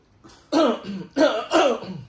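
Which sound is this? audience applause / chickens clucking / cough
cough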